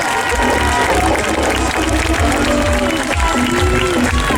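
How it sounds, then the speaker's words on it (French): A crowd at a longtrack motorcycle world championship race applauds the riders. Dense clapping and cheering stay loud and steady throughout, with tonal sounds drifting faintly underneath. "public normandais, on applaudit très fort les messieurs"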